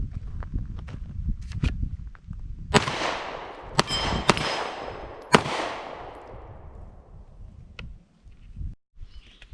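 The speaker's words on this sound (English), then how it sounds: "let's do some more rapid fire stuffs now, so I can show y'all from the holster" Several loud, sharp pistol shots from a Glock 19X Gen 5 ring out at an outdoor range, spaced irregularly with echoing decay, amid scattered quieter clicks and footsteps.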